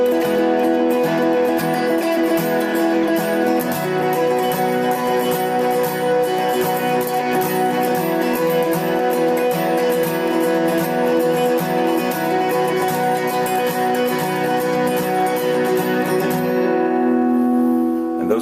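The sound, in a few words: electric guitar playing high power chords, song intro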